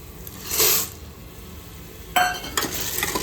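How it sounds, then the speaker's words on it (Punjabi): Pasta tossed in a spiced tempering with salt and garam masala, stirred with a ladle in a pan: a low sizzle punctuated by metallic scrapes and clinks in short bursts, no talking. "ਇਸ ਨੂੰ ਕੜਛੀ ਦੇ ਨਾਲ ਹਿਲਾ ਕੇ 2 ਮਿੰਟ ਦੇ ਲਈ ਇਸੇ ਤਰ੍ਹਾਂ ਤੜਕੇ ਵਿੱਚ ਪਾਸਤੇ ਨੂੰ ਰਝਾ ਲੈਣਾ"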